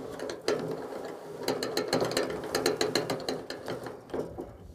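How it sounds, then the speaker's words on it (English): A crank handle winds a camper trailer's awning box, making a close, steady run of ratcheting clicks with mechanical gear noise that carries on for several seconds. "Insert the crank handle into the end of the awning box. And we just give it a number of winds."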